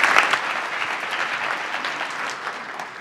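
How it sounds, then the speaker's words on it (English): A lecture audience gives a speaker a warm round of applause: dense, steady clapping from many hands that carries on without a break for the full three seconds. "So a warm applause for Mark,"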